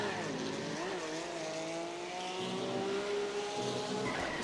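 Race car in Assetto Corsa sim racing spinning out, engine whine with gliding tones and tire squeal, steady and close throughout.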